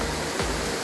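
A waterfall on a hiking trail near Floridablanca pours with a continuous, dense roar of falling water. No voices are heard.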